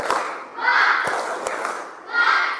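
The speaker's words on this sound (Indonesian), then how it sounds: "tepuk semangat" A class of schoolchildren doing a rhythmic spirit clap, sharp claps and thumps landing in a chanted pattern with group shouts rising and falling around them, loud and close in a classroom.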